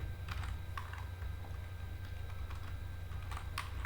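Code typed in C on a computer keyboard, a soft run of irregular key clicks over a steady low background hum, with no voice over it.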